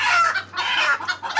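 Desi hens being caught one by one for Ranikhet vaccination give loud, close, agitated clucks and squawks in three quick bursts.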